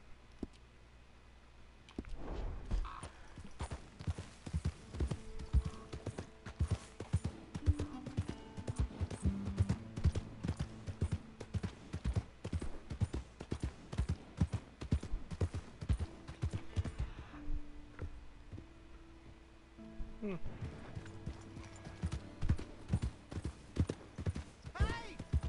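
Horse hooves clip-clop at a walking pace in Red Dead Redemption 2, a steady run of close hoofbeats that pauses briefly near the end before resuming, with a few spoken words over it.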